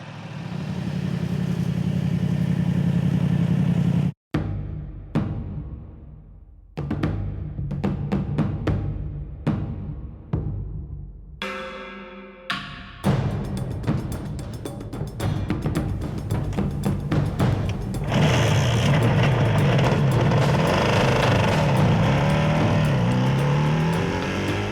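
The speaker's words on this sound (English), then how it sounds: "I'm riding a 500cc 4-cylinder road bike, super bike if you like" A Yamaha RZV500R 500cc four-cylinder two-stroke motorcycle idles loudly, then cuts out briefly before restarting with sharp blips and crackles, building into sustained revving near the end.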